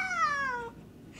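A housecat gives one drawn-out meow that slides downward in pitch and fades, close and fairly quiet, followed by near silence.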